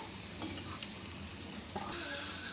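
Beetroot poriyal with masala powder sizzles and fries in a pan while being stirred, a steady close hiss of frying with faint scraping strokes of a spoon through the vegetables.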